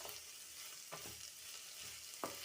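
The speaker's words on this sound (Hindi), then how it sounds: "जिंजर गार्लिक पेस्ट को भी सॉटे कर लेंगे" Ginger garlic paste sautés quietly in a pan for lemon fried rice, a faint steady sizzle broken by a few soft spatula scrapes, with no voice.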